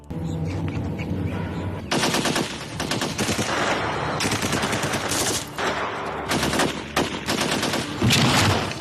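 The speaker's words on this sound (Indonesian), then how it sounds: "tembakan mereka semuanya meleset" Heavy gunfire from police troops in a film battle scene: loud, dense machine-gun bursts and rapid shots come in repeated waves, close and continuous, with brief dips between volleys.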